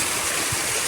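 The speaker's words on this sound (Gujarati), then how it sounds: "આ પાણી પડે છે ને ઉપરથી" Rainwater pouring down from above during heavy rain in a residential lane, a dense, steady rushing wash that fills the short moment without pause.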